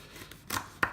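Two sharp knife chops through dried chipotle chillies on a board, close and crisp, spaced apart with quiet between.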